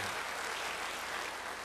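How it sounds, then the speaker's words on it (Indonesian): A church congregation applauds in a steady, even wash of clapping that fills the hall for a moment, with no voices over it. "Beri tepuk tangan yang baik bagi dia."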